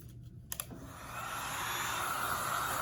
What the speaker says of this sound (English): I'm going to hit both of them with the heat gun